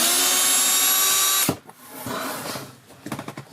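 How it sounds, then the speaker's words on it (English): A power drill unscrews small screws from RV side panels, a loud high whine for over a second that cuts off, followed by clicks, rattles and handling noises close by. "Just going around removing all these little screws."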